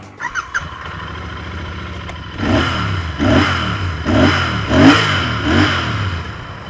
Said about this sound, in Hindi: पहले आपको उसका एग्जॉस्ट नोट सुनाते हैं